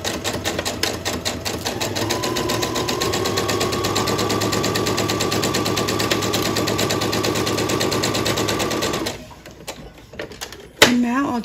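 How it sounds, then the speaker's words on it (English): A sewing machine stitches a quilted Christmas wall hanging, running in a fast, even mechanical chatter for about nine seconds close up before stopping, followed by quiet handling noises and a brief clack. "I'm going to stitch right past the edge again."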